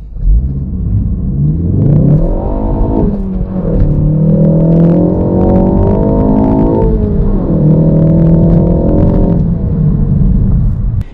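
A 2019 Ford Focus ST turbocharged engine revs and accelerates loudly and close, with the pitch climbing through two or three rising sweeps and dropping between them as the car pulls away, alone with no talk.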